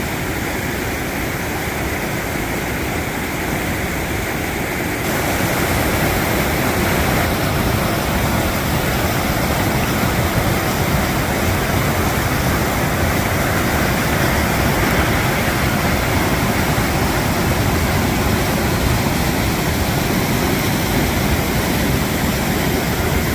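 A creek runs high and fast with snowmelt on Mount Baldy, making a loud, steady broadband roar of rushing water that continues unbroken throughout with no voices.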